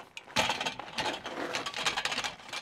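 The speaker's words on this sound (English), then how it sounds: "I just jack these guys completely up like this and can slide them out" Camper jacks being cranked up by hand on a flatbed, a quick run of close, rapid ratcheting clicks and gear whirring.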